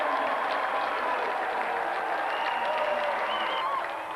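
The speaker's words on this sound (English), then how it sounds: "So let's have another round of applause for it." Studio audience applause on a games show fills the whole stretch with a steady, dense wash of clapping and cheering, holding at an even level before easing slightly at the end.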